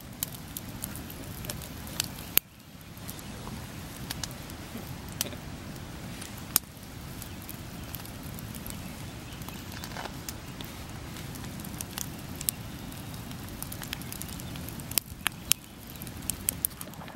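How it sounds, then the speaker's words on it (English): A big campfire burns at night beside the Yukon River, a low steady crackle with scattered sharp pops and snaps throughout, fairly close but quiet, with no talking. "Midnight on the Yukon with a big fire."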